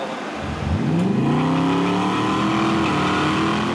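A drag car with a forged 496 big block and aluminum heads fires up and revs hard, its rising engine harmonics sweeping upward and holding at a loud, steady roar close by on a hot day.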